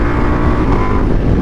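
A Ducati Multistrada V4S motorcycle under way, its engine a steady broadband roar mixed with rushing wind noise, close and loud throughout with no talking.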